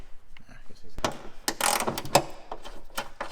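A 12mm socket on a ratchet works a bolt during engine removal on a 2015–2021 Subaru WRX with the FA20 2.0L, with bursts of ratcheting clicks and a few metallic knocks, loud and close, set against quieter workshop handling noise.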